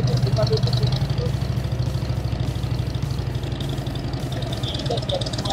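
A Harley-Davidson motorcycle engine chugs with a steady, loud, rhythmic low pulse during a riding training session. The throttle effect is subtle, and talk can be heard over the engine.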